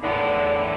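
Open electric guitar strings ring out through heavy distortion, a steady buzzing sustain that holds evenly and fades slightly at the end.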